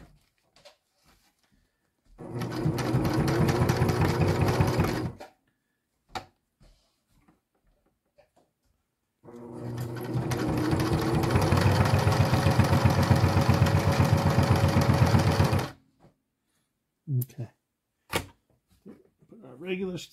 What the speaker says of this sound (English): last side of stitching, and I'll put the bar tack there